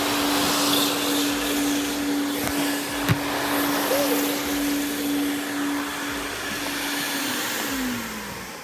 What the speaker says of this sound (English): So this is it, wet vacuum.